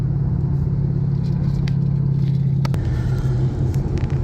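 A 2012 Ford Mustang Boss 302 V8 with low mileage rumbles steadily from inside the cabin while driving, a loud, continuous low drone with a brief shift in tone near the end and no talking.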